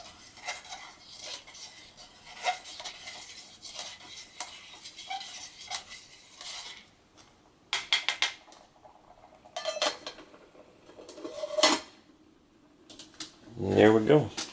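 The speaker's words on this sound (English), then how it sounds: "Give it one more stir here." Lemon chicken rice being stirred in a pot over an alcohol stove, with light scraping and clinking of a utensil against metal, sporadic taps and a louder clatter near the end, under a soft ongoing background.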